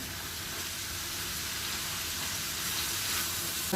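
Meat sizzles steadily in a hot pan while being sautéed for saç kavurma, a dense crackling hiss that grows slightly louder toward the end, with no talking.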